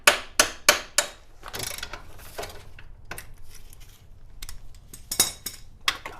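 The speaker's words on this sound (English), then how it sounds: "Let me get your new hammer." Several sharp metallic hammer strikes in quick succession on a BMW E39 540i during engine removal, then scattered clanks and rattling, with a few more hard blows near the end.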